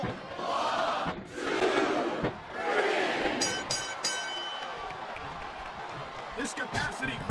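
Arena crowd in the WWE SmackDown vs. Raw 2007 wrestling video game roars and cheers continuously during a Booker T vs Batista Ironman match, swelling and dipping, under steady commentary from announcers.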